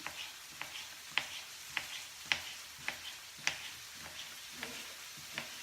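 Diced vegetables sizzling and frying in a saucepan, a steady soft crackle with repeated sharp stirring ticks spaced roughly every half second, close and fairly quiet, no voices.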